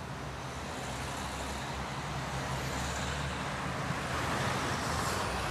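Steady road traffic noise with a vehicle engine drawing nearer, a continuous low rumble and hiss of tyres that grows slightly louder toward the end.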